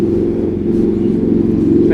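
A motorcycle engine drones steadily nearby at a lakeside carp fishing spot, a low, even rumble holding throughout with a slight swell partway.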